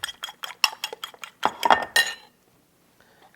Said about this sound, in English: I'm just going to scramble up these eggs. No, we're not scrambling them. We're beating them up.